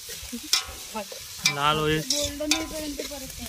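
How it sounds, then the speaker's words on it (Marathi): Onions sautéing in hot oil for egg bhurji, crackling and sizzling as a spoon stirs and scrapes the pan in quick strokes, close and clear. "आता कांदा एकदम परतवून घ्यायचा आपल्याला सर्वांना"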